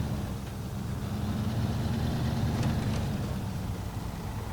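Truck engine in the Snowrunner video game, a heavy vehicle hauling steel beams in Smithville, giving a steady low idling rumble throughout, with a brief faint clunk midway and no talk.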